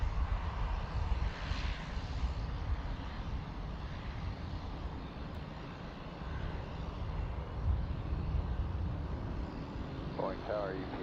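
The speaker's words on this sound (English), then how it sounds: "There's our Sun Country 737" Jet engine of a Sun Country Boeing 737 charter at Boeing Field, a steady, loud broadband roar rumbling continuously across the whole stretch, with a brief higher whine near the end.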